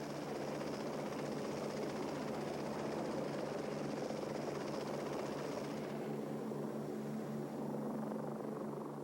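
A Lockheed Cheyenne helicopter hovers with a steady, loud rotor and engine roar that holds throughout, its high whine easing slightly near the end; no one speaks.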